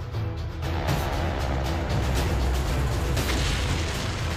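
Launch of an Atlas intercontinental ballistic missile, a loud sustained roaring rumble that swells in after a brief quieter start and continues as a broad, steady blast.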